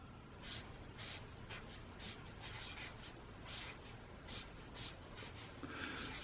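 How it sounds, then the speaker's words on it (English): A Sharpie felt-tip marker writes on the front page of a paper diary, with quiet, close squeaky strokes in short rhythmic bursts separated by brief pauses. "I get a magic marker here, or a felt pen, a Sharpie, and I write on the front page"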